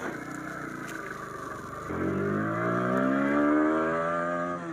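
A Bajaj Pulsar 160 NS motorcycle accelerates hard through its gears, its engine note climbing steadily, dropping at a gear change, then rising again, loud and close throughout.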